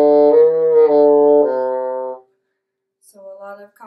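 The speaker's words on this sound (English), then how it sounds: "And then connected, you just don't re-articulate." Bassoon playing a smooth legato phrase of connected notes without re-articulation, rich harmonics sustained for about two seconds, then a pause and a second quieter connected passage, close and solo.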